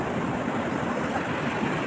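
Water waves wash and surge at a picnic spot, a dense continuous rush of water mixed with wind buffeting the microphone, steady and fairly loud with no talking.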